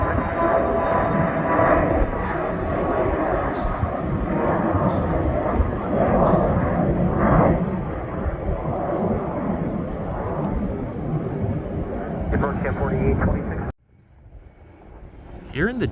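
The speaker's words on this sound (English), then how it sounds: "Here in the distance appears to be an MD-80 family of aircraft, private." A distant MD-80 family airliner in private livery at a Milwaukee airport gives a sustained, broad roar of engine noise that holds steady before cutting off abruptly near the end.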